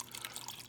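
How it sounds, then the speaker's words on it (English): Small garden fountain with water trickling down in a light, steady dripping patter, close and quiet, with no other sounds. "See, the water comes down."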